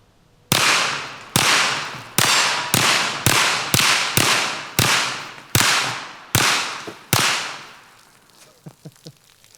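Glock bullpup pistol fired at groceries: eleven loud, sharp shots in a steady rhythm, each with a brief decaying tail, followed by faint scattered knocks and clatter.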